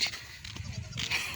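A baby goat gives short, high bleats, a couple of quick calls close by against a quiet background.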